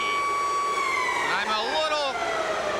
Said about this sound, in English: This one is going to end in a tie as the siren goes